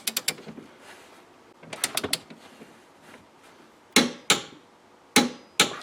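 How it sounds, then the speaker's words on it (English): A torque wrench tightens the bolts on a tow hitch being fitted to an Audi to 45 foot-pounds, heard as brief ratcheting clicks followed by sharp, close, distinct clicks in two pairs. "And now torque these down to 45 foot-pounds."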